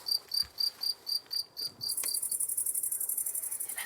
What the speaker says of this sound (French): Le petit grillon.